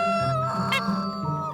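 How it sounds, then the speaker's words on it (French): Young hens make short honking clucks close by, a few calls spread across a brief moment on a small homestead in eastern France. "C'est des jeunes poulettes."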